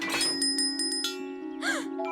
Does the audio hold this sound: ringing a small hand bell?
yes